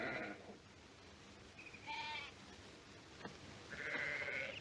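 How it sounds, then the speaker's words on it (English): Sheep bleating at a distance, a few separate calls spread over a few seconds against a quiet outdoor background, with a faint knock partway through. "help me get those sheep on the move"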